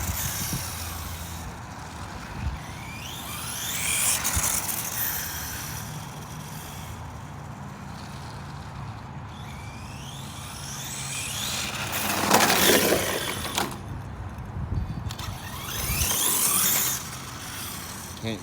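A Traxxas Slash 2WD custom-built RC car runs on cold ground, its small electric motor whining in rising and falling passes, loudest in brief bursts, over steady outdoor background noise.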